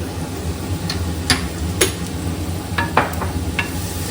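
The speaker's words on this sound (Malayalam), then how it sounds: "എപ്പോഴും ഉള്ളി വശക്കുമ്പോൾ നമുക്ക് കുറച്ച് ഉപ്പും കൂടെ ആഡ് ചെയ്യാം." Onions sautéing in a pan with a spoonful of salt give a low steady sizzle, broken by a few brief stirring scrapes and clinks of the utensil against the pan.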